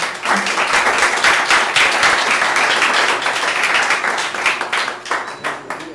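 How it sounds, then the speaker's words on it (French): A crowd applauds at a French municipal campaign list presentation in Saint-Martin, dense sustained clapping from many hands that fills the room and gradually thins toward the end. "Donc ce soir, applaudissez notre village de Colombie."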